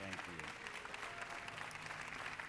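Applause from a church congregation welcoming pastors at a Korean-language service, a steady dense clapping throughout with a voice talking faintly underneath.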